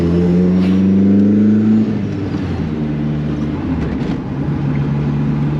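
A 500hp turbocharged SR20 engine in a Datsun 1600 pulls hard, its rising tone climbing loudly before easing off to a steady cruising drone from inside the car.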